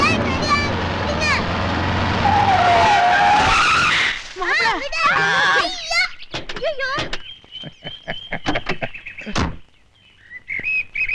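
Cars race and skid in a Tamil film scene, with loud tire squeals, revving engines and sliding sweeps in bursts, while voices are heard and later the noise breaks into sharp choppy bursts.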